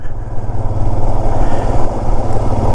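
Motorcycle riding along the snow-walled Manali-Leh highway, a loud, close, steady engine drone with a throbbing low exhaust note and rushing wind noise.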